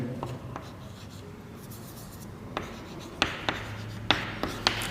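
Writing on a board produces faint scratchy strokes followed by several sharp taps and clicks, and someone talks quietly underneath.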